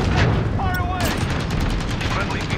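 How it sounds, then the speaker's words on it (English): Heavy explosions and gunfire from bombs dropping on a Modern Warfare ground war battlefield, a loud continuous barrage of blasts and rapid shots, with a voice speaking underneath. "We're just dropping bombs"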